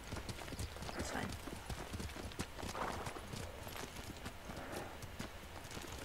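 Horse hooves clip-clop steadily in the Ghost of Tsushima video game, a continuous trotting rhythm with occasional whinnies amid game ambience, while a voice talks over it.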